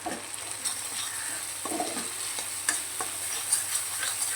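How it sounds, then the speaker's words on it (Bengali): Ground spices with chilli powder, turmeric and cumin sautéing in a pan over low flame for a jackfruit biryani, a steady soft sizzle with scattered scrape-like stirring ticks, close and fairly quiet throughout. "লো ফ্লেমে মশলাটা ভালো করে কষিয়ে নিতে হবে।"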